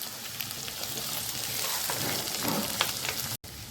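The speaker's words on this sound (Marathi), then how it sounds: "कांदा मिरची याला आधी फ्राय करून घेऊया" Onion and chilli frying in a pan for a dhaba-style egg masala, a steady, dense sizzle that stays loud and even throughout with no talking, broken only by a brief dropout near the end.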